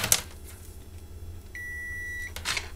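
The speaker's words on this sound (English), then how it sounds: "get your meter out. I'm going to do a whole meter and put it on continuity" A multimeter set to continuity mode, used on wiring during an Atari ST boot drive modification, gives a single steady beep lasting under a second, over a quiet background with a brief click before and after.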